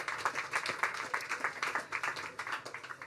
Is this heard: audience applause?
yes